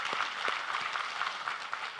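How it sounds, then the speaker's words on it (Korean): A church congregation at a Sunday service gives soft, brief applause, a faint and even patter of clapping heard from some distance. "우리 하나님께 감사와 영광의 박수를 드리겠습니다"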